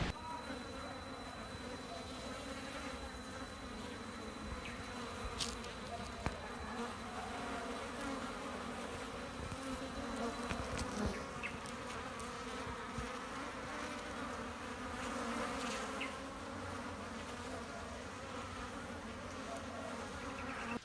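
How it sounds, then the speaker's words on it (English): A dense, steady buzzing of many bees fills the air, continuous and close, with a few louder passes drifting by. "It's actually bees."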